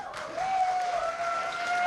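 StarCraft tournament audience applauding and cheering as a dense, distant crowd wash, with a sustained whistle-like tone held over the noise.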